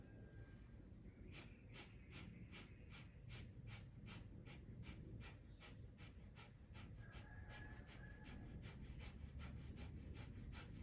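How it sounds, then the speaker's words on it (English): Rapid, forceful skull shining breath (kapalabhati) during a meditation practice: a long steady run of sharp, evenly spaced exhalation bursts, about two per second, close and loud throughout with no talking. "This is how you do the skull shining breath."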